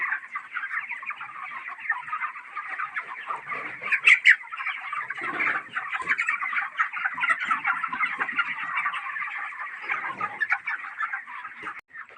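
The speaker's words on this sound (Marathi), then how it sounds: "बघा आपले पक्षी" Dense flock of poultry in a farm shed, a steady, busy chorus of clucking and gobbling from many birds at once, fairly faint and continuous with occasional louder calls and no talking.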